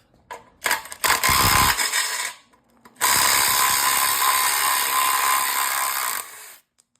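A cordless impact tool works loose seized sway bar bolts on a car's rear subframe, with a rapid rattling hammer in two loud close bursts, one short and stuttering, the other sustained for about three seconds.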